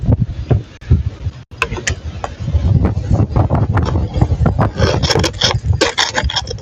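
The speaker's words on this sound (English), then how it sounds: "It's windy." Strong wind gusting outdoors in winter, buffeting the microphone with continuous low rumbling roar and scraping bursts, loud and close throughout with no talk.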